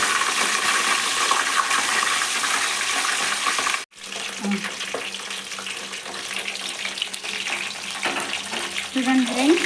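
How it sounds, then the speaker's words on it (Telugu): Brinjals fry in oil in a pan with curry leaves for a masala curry, a steady close sizzle that drops out briefly near four seconds, then resumes with softer bubbling and stirring. "వంకాయలు బాగా వేగుతున్నాయి."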